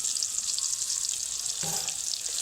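Ginger-garlic paste frying in hot oil with whole cumin seeds, a steady bright sizzle with faint stirring clicks, close and continuous, no talking.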